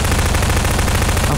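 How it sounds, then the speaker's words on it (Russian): Rapid automatic gunfire in Garry's Mod, a dense continuous burst of shots, loud and close, with no talk over it. "кто стреляет?"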